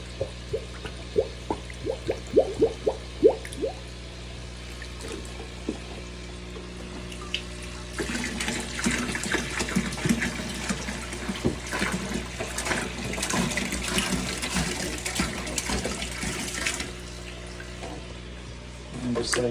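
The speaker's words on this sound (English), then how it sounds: "now I'm just going to use this to fill the water back up into the fish tank" Clean water poured back into a home fish tank: first a few separate splashy drips, then a steady close stream trickling and splashing into the water.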